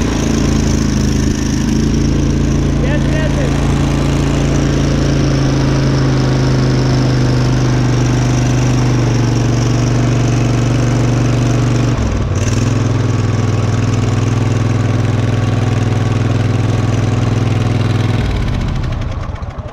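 A small engine with an exhaust leak runs loud and close at a steady idle, with a rough, throbbing drone holding for most of the stretch, a brief dip midway, then cutting off near the end.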